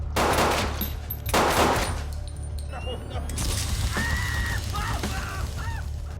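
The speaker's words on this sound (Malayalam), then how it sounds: "ഹബ്ബറിന്റെ തോക്ക് പിടിച്ചെടുത്ത ബോബ് ഹബ്ബറിന്റെ കാലിലേക്ക് തുടർച്ചയായി വെടിവെച്ച് അയാളെ താഴെ വീഴ്ത്തി" Several sharp gunshots crack in quick succession during a tense action scene from the 2021 film Copshop, followed by lingering reverberant noise and sparse tonal effects.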